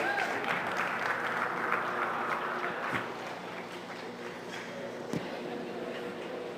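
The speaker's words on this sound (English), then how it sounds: "Let's give them a round of applause" An audience claps for the class winners at a market and breeding beef cattle show. The moderately distant applause is continuous, with a few sharper claps standing out and gradually thinning toward the end.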